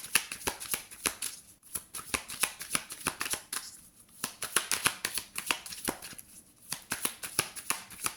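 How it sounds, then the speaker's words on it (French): Tarot cards being shuffled and dealt, a steady run of crisp riffling bursts and soft card slaps, close and fairly loud with no voice over them. "on va tirer 5 cartes"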